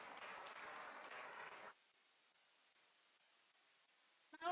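An audience at a yoga university festival claps after a performance; the soft, dense clapping runs for under two seconds, then stops abruptly into near silence before a brief new sound at the very end.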